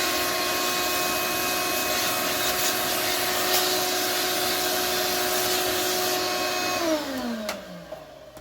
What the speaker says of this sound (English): one more time with this vacuum